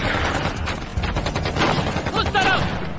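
Rapid bursts of gunfire fill a scene from a Hollywood horror film dubbed in Hindi, steady and loud throughout with little pause, while voices shout over the shooting.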